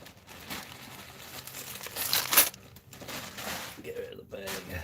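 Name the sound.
plastic bag being crinkled and removed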